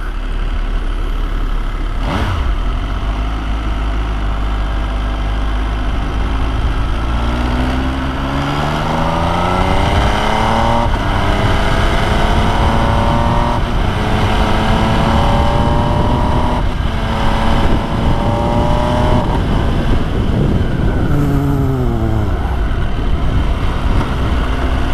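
An MV Agusta Brutale 800 motorcycle engine being ridden hard, loud and close, with revs climbing and dropping through several gear changes over a constant rush of wind noise.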